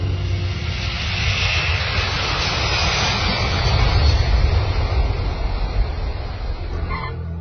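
A Lockheed SR-71 Blackbird flying, a continuous broad engine roar that swells slightly in the middle and holds steady throughout, heard alone without speech.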